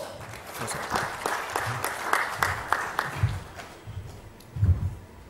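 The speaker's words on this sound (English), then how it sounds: "A round of applause." An audience at a Digital India conference in Goa applauds a guest speaker, the Chief Secretary of Punjab, with steady scattered clapping of moderate loudness, with some low voices murmuring underneath.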